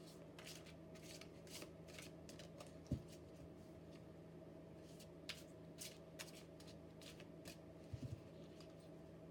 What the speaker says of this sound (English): these cards are just too big for my hands, so I've got to shuffle them like this.